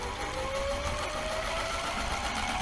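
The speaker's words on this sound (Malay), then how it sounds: "Dia akan berputar dengan sangat laju dan akan memberikan sedikit bunyi." Washing machine drum spinning at high speed, a steady loud whirring hum with a faint rising whine, continuous and uninterrupted with no voices.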